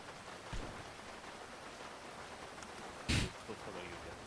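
Rain in the video game GTA: a soft, steady hiss of falling rain, fairly quiet, broken by a couple of brief louder bursts.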